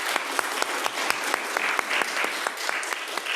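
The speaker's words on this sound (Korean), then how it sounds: "박수로 환영하겠습니다" Church congregation applauding at a Sunday worship service to welcome a returning former youth group vice-president and worship leader; steady, dense clapping from a sizable group, moderately loud and sustained with no talking over it.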